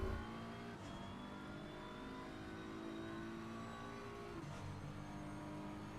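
A BMW engine in a sim racing game at the Snetterton circuit, humming steadily with a low drone. It shifts pitch as the car accelerates and changes gear, and it stays fairly faint and even throughout.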